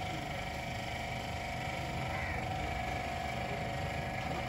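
A Toyota GLI car engine runs steadily just after a gear bearing replacement, with a continuous low rumble at moderate level and no distinct start-up burst.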